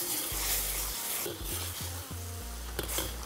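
Starch-thickened sauce boiling and sizzling in a wok, for a shrimp and scallop dish, with a steady close crackling hiss and stirring scrapes throughout.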